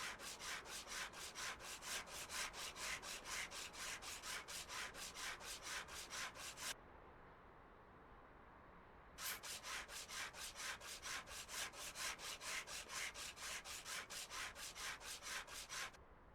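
Sandpaper rubbing rust off a car in a dealership simulator game, rapid even back-and-forth scratching strokes in two long bursts separated by a short pause.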